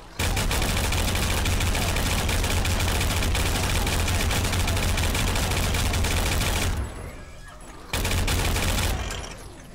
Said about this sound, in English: We've got a chain gun to try out.